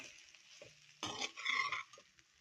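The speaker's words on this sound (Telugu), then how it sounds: "ఇప్పుడు ఇదంతా కూడా బాగా కలుపుకోవాలి." A spatula stirring beetroot fry mixed with coconut powder in a pan, a short burst of scraping and light sizzling after a quiet start, close and moderately loud, no talk.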